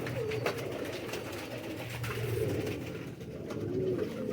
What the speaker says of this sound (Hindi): प्योर लाखा कबूतर है।